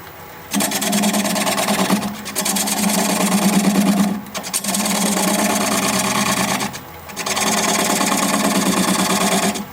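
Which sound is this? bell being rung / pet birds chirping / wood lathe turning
wood lathe turning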